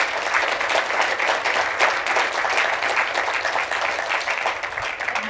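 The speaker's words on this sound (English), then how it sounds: "So I think they deserve a round of applause for what they do every day." An audience applauds doctors at a talk on follicular lymphoma, a steady, fairly loud wash of many hands clapping that carries on evenly for several seconds.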